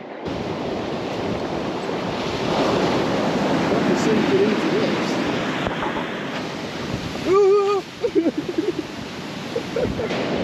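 Sea waves break and wash over a sandy beach in a continuous roar, mixed with gusty wind buffeting the microphone, while a person briefly exclaims near the end.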